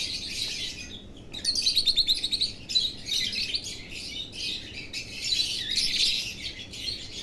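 Pet birds eating soft food chirp and tweet in rapid, high, close bursts, several calling over one another almost continuously, with no one talking.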